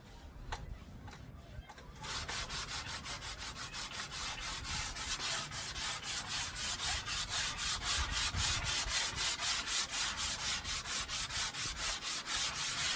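After a brief quieter opening with a few light strokes, steady rhythmic hand sanding of wood begins, close and continuous with fast back-and-forth rasping.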